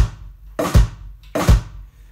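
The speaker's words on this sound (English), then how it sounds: "The tricky thing that I'd say on this is trying not to flam your snare and your bass drum." Two loud drum hits, each pairing a snare and a bass drum struck slightly apart so they flam, spaced about three-quarters of a second apart with quiet between, played alone up close.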